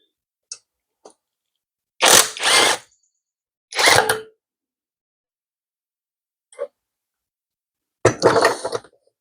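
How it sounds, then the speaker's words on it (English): Ratchet turning out the starter bolts on a 1997 Seadoo GTX, a few short clicks followed by three longer bursts of loud ratcheting separated by silence, close by and alone. "Last bolt out of the starter."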